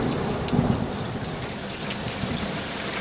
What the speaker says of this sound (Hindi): तब अचानक बहुत तेज बारिश होने लगी